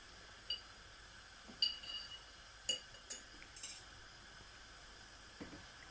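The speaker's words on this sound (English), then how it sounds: "I've just lifted 2 of the jars out of the oven so I can start filling with the cabbage" Glass canning jars lifted from an oven and set down in a kitchen, giving a few light, sharp clinks and taps spaced irregularly over a quiet background.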